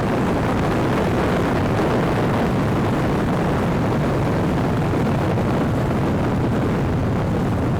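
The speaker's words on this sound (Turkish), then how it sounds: "Aşırı rüzgar var." Steady, loud wind roar buffeting the microphone while riding a 2024 Honda NC750X DCT motorcycle with a very short windscreen, a constant broadband rush with no pauses, like riding fast into a headwind.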